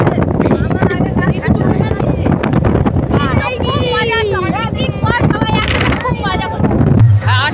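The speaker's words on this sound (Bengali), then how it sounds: "এত হাওয়া এত হাওয়া আমার চুলগুলো উড়ে যাচ্ছে" Strong wind buffets the microphone on a boat trip near the Namkhana bridge, a constant roaring rush beneath close talk and a beating dhol.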